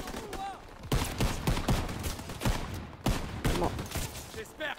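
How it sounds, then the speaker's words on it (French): Rapid gunfire from the Call of Duty WWII battlefield, sharp repeated bursts and cracks throughout, loud and close, with someone talking over the shooting. "Moi aussi, on me tire dessus, hein."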